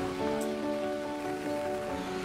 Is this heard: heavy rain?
yes